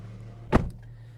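An Infiniti G37 car door shuts with a single short, solid thump near the middle, followed by a faint latch click against a quiet low hum.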